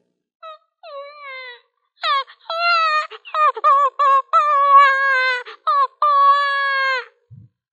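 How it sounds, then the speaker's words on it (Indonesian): A newborn baby cries at night in a stable where animals rest: a loud run of wavering, rising and falling wails, separated by short breaths and heard alone. "di malam itu lahirlah suara tangis bayi"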